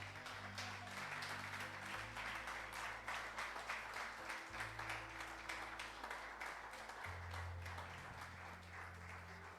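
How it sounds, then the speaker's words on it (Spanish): A church congregation claps together under sustained music with a deep keyboard or bass tone, the applause a dense, moderate wash spread across the whole stretch. "Denle un aplauso al Señor"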